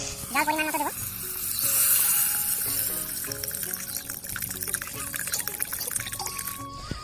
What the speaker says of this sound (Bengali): এখন চাল ডাল মিশিয়ে গেছে, ঠিক আছে। আমি জলটা দিয়ে দেবো।